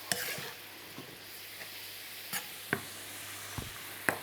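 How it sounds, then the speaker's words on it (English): Soy sauce and Shaoxing wine deglazing a hot pan, a soft steady sizzle under a quiet hum, broken by a few sharp utensil taps and scrapes against the pan. "This is just going to deglaze the pan, so you can just cook this down slightly."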